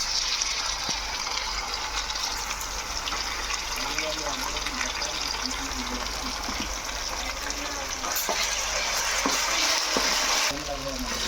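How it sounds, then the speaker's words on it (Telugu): Ginger frying in oil with browned onions, a steady dense close sizzle running throughout, with occasional stirring scrapes and a soft voice murmuring faintly underneath. "ఫ్రెండ్స్, ఈ అల్లం కూడా పచ్చివాసన పోయేదాకా వేపుకోవాలి."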